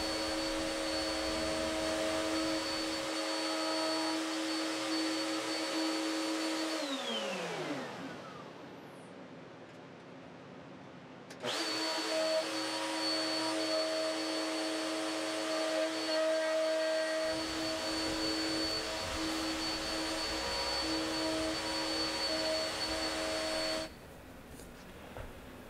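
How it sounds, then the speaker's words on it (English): A handheld router cuts T-track recesses into an outfeed table top, a steady loud whine with a brief drop and pause in the middle before the motor spins back up and runs on to the end. "It was a matter of just lining up the router with it, clamping down the track, and then routing it out."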